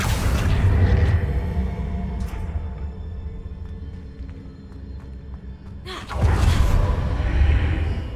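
Confringo fire spell blasts in the Hogwarts Legacy video game: a loud burst opens the clip, a quieter rumbling stretch follows, then a second heavy explosive whoosh near the end.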